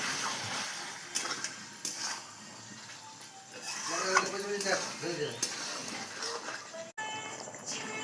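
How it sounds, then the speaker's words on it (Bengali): Meat curry with meat masala is stirred in a hot pan, giving a steady sizzle with scraping spoon strokes and short clattering stirs close by. "ভালো করে নেড়ে নিই। এবার মিট মশলা দিয়ে দিই।"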